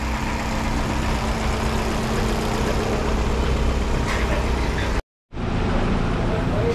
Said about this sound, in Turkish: 10 dakika rolantide çalışacak.